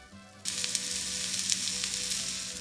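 Rice sizzling and frying in a pan for Mexican-style rice, a steady bright hiss starting suddenly and continuing with small crackles, close and fairly loud, no talking.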